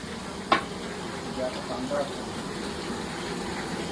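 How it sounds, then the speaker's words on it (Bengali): Pabda fish frying in oil, a steady soft sizzle running throughout with a brief sharper clatter near the start, while voices talk faintly in the background. "কত সুন্দর ভাজা চলেছে।"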